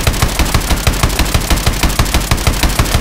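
Rapid automatic gunfire in Call of Duty: Advanced Warfare on Xbox One, a steady stream of loud, evenly spaced shots with no talk over it.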